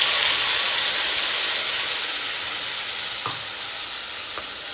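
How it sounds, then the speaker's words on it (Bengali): Ginger and tomato paste hit hot oil and fry with a loud, dense, continuous sizzling hiss that eases slightly toward the end, with a faint knock or two. "এবার এই তেলেই আমি আগে থেকে পেস্ট করা আদা আর টমেটোটা দিয়ে দিলাম।"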